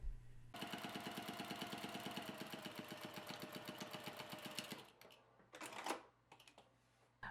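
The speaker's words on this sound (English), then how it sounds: "So I'm gonna start by sewing fabric A and fabric B together." A sewing machine stitches two fabric pieces together with a quarter-inch seam for a lightweight slouchy bag, running in a fast, steady mechanical whir for about four seconds before stopping, followed by rustling fabric handling.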